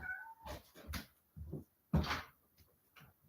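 A pet cat meows repeatedly for attention indoors, several short close cries with gaps between them, clear and alone without talk.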